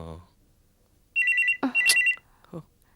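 A telephone rings in two bursts of a bright, warbling electronic trill, with short speech sounds and a clatter around them in a quiet room.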